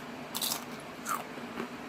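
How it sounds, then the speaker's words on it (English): Crisp crunching bites on tortilla chips, three distinct crunches spaced about half a second apart, close and fairly loud over a quiet background. "Hear that crunch?"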